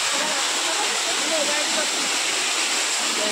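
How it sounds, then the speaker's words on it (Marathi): A powerful waterfall pours straight down a mountainside beside temple steps, producing a loud, continuous roaring rush of water that stays dense and unbroken throughout. "वरून डायरेक्ट डोंगरावरून पाणी येतं जाम जोरात."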